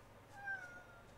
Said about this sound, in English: he was sitting at the door meowing. Exactly like he's doing now.